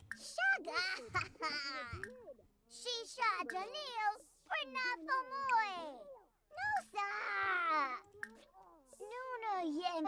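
A cat in The Sims 4 gives repeated chattering meows and babbling calls that rise and fall, mixed with frequent talking throughout.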